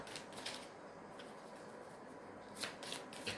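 Oracle cards being drawn and shuffled by hand, a soft continuous riffling rustle with a few sharper snaps of cards near the end, quiet and close.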